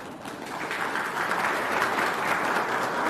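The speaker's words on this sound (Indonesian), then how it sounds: "Terima kasih tepuk tangannya." Audience applause at an Eid halal bihalal gathering in Bekasi, a steady, dense wash of clapping that holds at an even level throughout without any talk over it.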